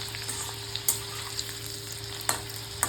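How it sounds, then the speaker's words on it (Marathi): Garlic frying in a pan until browned gives a quiet, steady sizzle with occasional sharp pops and spatters close by, and nobody speaks. "लसूण आता लालसर काढून घ्यायचा"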